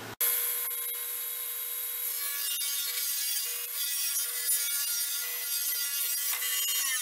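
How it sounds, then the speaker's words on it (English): A table saw ripping sheets of plywood into 15-inch slabs gives a steady, close, high whining cut that runs without a break, with a short thump at the start. "now I'm going to put them all on my table saw and trim them down to 15 inches"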